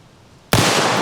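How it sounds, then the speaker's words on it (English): A 454 Casull revolver fires a single 250-grain jacketed hollow point at a watermelon about seven yards off: one sudden, very loud blast after a quiet moment, its roar sustained to the end. "We've got a 250 grain 454 Casull. It is a jacketed hollow point"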